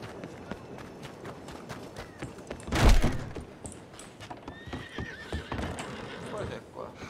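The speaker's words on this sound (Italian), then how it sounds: "Ah, questo è il cavallo tuo." A horse in a video game gives a loud whinny in the middle, surrounded by hoof clatter and thumps, with someone talking over parts of it.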